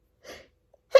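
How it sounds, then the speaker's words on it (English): A short stifled sneeze: a soft, breathy intake burst followed a moment later by a sharper, louder suppressed sneeze, close and alone in otherwise quiet surroundings. "I'm gonna sneeze."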